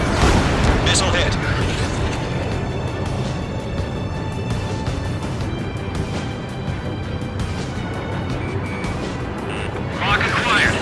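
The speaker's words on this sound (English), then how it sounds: "Missile hit." A missile strikes in Ace Combat 7 and detonates in a heavy, rumbling blast. It sits inside a dense, continuous wash of jet and combat noise, with radio voices talking over it.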